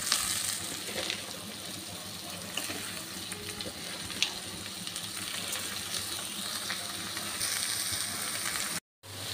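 Water lily stems (shapla) seasoned with turmeric and salt fry in a pan, giving a steady, close hissing sizzle with occasional stirring clicks, cutting out briefly near the end.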